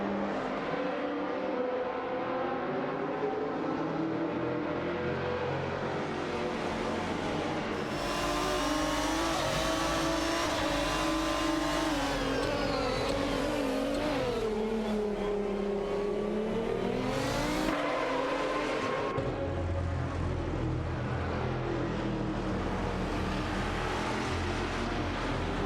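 Race cars accelerate and pass in a continuous loud engine roar, with pitches rising and sweeping as the cars go by and layered revving throughout.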